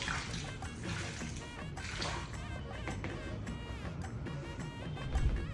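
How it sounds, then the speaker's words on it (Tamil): Water is poured over feet and trickles onto a quick-drying bathroom mat, a close, continuous splashing dribble that stays fairly soft throughout. "ஸோ இப்போ இந்த தண்ணியை நம்ம காலில் ஊற்றிட்டு அங்கே இம்மீடியட்டாக வந்து நின்று பார்ப்போம்"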